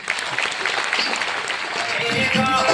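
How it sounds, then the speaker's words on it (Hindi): Audience clapping at a motivational talk, a steady wash of applause lasting the whole moment at moderate loudness, with a voice speaking over it toward the end. "ताली बजाओ।"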